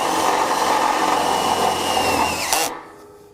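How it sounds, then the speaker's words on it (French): Power screwdriver driving self-drilling screws into a steel joist for a ceramic-slab terrace structure: a loud, steady whirring drive for over two seconds that ends abruptly, leaving quiet. "Alors on visse toujours avec des vis autoforeuses."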